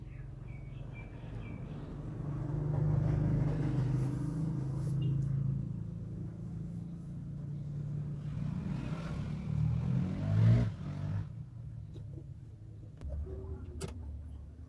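A sewing machine stitches a 34-size double katori blouse, its motor giving a steady close whir with faint ticking that swells and eases over the run, with no talking.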